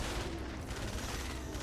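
Fortnite gunfire rattles loudly and densely in rapid bursts, a continuous layer of harsh shots and booms with no talk.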